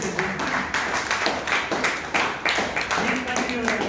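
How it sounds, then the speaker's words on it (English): An audience at a Bangalore Toastmasters meeting applauding to welcome the first speaker, steady clapping from a modest crowd in a room, with a voice talking over it. "please continue your applause to welcome the first speaker, Ghanshyam Rajdeep"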